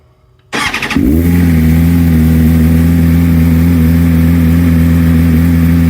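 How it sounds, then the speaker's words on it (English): A BMW M1000RR sport motorcycle with an SC Project exhaust fires up loudly after a short starter whir, then settles into a deep, steady, throaty idle close by. "I'll go ahead, start the motorcycle again. Here's the SC Project on the bike"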